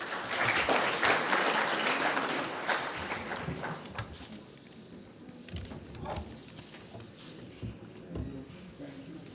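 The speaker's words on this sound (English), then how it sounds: "May we have a huge round of applause for them?" An audience at a hospitality HR summit applauds loudly. The clapping swells at first, then thins into scattered claps with some faint crowd murmur.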